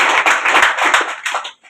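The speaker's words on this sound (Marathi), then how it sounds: "जरा टाळ्या वाजवायच्या." Applause from a crowd at a felicitation ceremony during a temple inauguration in Maharashtra, as dense, steady clapping that stays loud for over a second and then quickly dies away.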